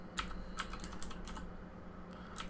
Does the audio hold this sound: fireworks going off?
no